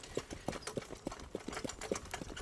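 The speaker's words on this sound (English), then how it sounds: "the girls just love coming down here and riding horses" Horse hooves clip-clop on a bush track in a quick, even rhythm of distinct thuds, moderately close and quiet.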